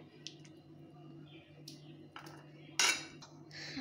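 A mashed banana mixture is spooned into a cup while making avil milk, giving soft metal-on-glass clinks and a brief wet squish, all close and quiet with a low steady hum beneath and no talking.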